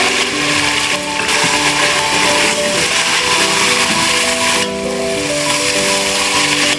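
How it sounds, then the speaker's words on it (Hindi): Meat and onion fry in a pressure cooker for bhindi gosht, a loud, steady sizzling hiss heard close, with surges in intensity and a faint tonal hum running underneath. "ये जो गोश्त है इसके साथ जो मैंने प्याज को शामिल किया बाद में, तो इससे ये हुआ कि जो हल्की फुल्की कसर प्याज में थी भुनने की वो भी भुन जाएगी"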